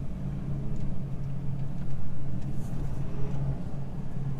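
Steady low engine rumble of a 2015 Ford 6.7 Powerstroke diesel pickup heard from inside while driving, a constant moderate drone with no talk.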